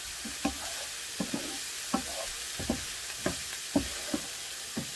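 Finely chopped shallot sizzles in a hot pan, a steady close frying hiss broken by repeated scraping stirs of a utensil.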